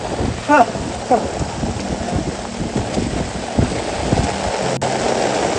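Steady rain hisses over a low, rolling rumble of thunder, with a few brief squeaks and knocks nearby.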